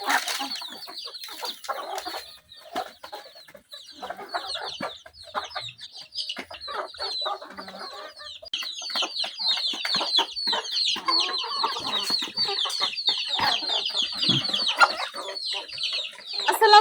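Village chickens cluck and squawk busily after their morning feed, a dense, continuous flock chatter close by that grows livelier and louder in the second half, with no talk over it.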